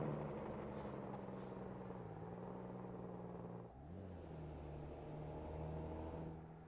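Deep, rattling engine-brake drone from a truck at night, a low steady growl with a brief dip and shift in pitch midway, continuing throughout at moderate distance.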